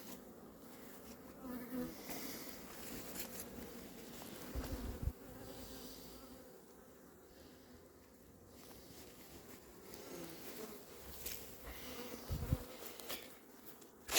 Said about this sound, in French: Donc là les abeilles sont en sécurité, on va les laisser tranquilles.